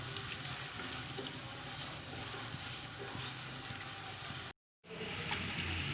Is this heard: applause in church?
no